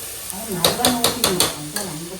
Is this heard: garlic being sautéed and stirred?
yes